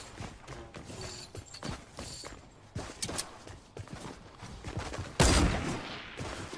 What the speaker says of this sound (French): Son flingue il pète un câble là.